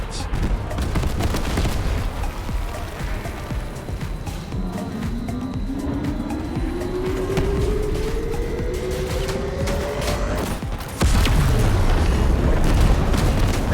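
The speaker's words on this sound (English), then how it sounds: "The way you can hear it charge up and then go off like an EMP blast is awesome." In a shooter video game, a weapon effect builds as a rising electronic whine that climbs for about six seconds over constant combat noise. It then lets go in a loud, sudden EMP-like blast.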